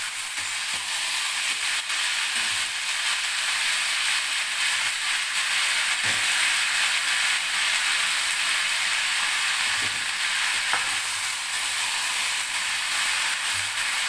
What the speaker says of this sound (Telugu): ఇలాగ వేసి మొత్తం దుంపలన్నీ కూడా ఫ్రై అయ్యే వరకు వేయించాలి.